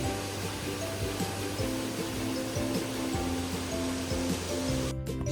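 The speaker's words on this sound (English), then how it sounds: "Our first stop was Rha Waterfalls." Rha Waterfalls on the Isle of Skye, a waterfall reached by a short walk, giving a steady broadband rush of falling water that holds constant throughout, with no talk.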